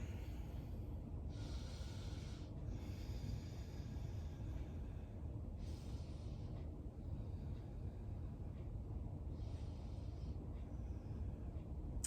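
A yoga instructor's deep, slow breaths during an at-home hatha flow, close and airy, with long hissing inhales and exhales recurring every few seconds over a steady background rush.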